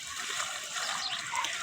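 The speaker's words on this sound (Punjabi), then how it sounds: "ਪਾਓ ਜੀ ਇਹਦੇ ਵਿੱਚ ਪਾਣੀ" Water is poured into a freshly dug planting hole for a nursery sapling, producing a faint, continuous splashing trickle outdoors.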